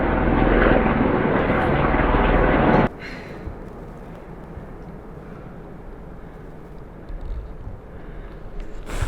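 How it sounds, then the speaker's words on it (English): A loud tour helicopter roar passes close overhead in Gold Strike Canyon, then cuts off abruptly, leaving quieter outdoor ambience with a faint engine hum afterward. "A lot of helicopter tours going by."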